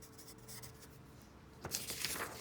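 Pen writing a frequency table by hand on paper, soft close scratching strokes at first, then a louder burst of brisk scribbling near the end, with no voice.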